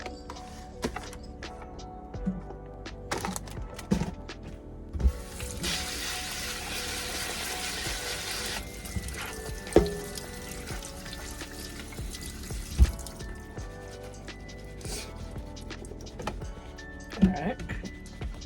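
Tap water runs over mushrooms being washed in an RV kitchen, a steady rushing splash lasting a few seconds amid clinks and kitchen handling, with a voice speaking nearby.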